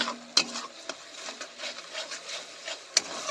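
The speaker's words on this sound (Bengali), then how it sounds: "মাঝে মধ্যে সামান্য একটু করে জল দিয়ে ভাজতে থাকবে নাহলে লেগে যেতে পারে" Potato and patol pieces fry in a pan, stirred with a spatula that scrapes and knocks in quick irregular strokes over a soft sizzle, with two sharper clacks standing out.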